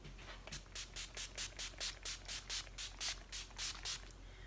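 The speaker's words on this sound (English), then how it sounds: "taking my All Nighter setting spray from Urban Decay, and I'm just going to spritz the face" Rapid, even spritzes from a bottle of Urban Decay All Nighter setting spray onto a face, about a dozen quick hissing puffs in a steady rhythm, close and fairly soft.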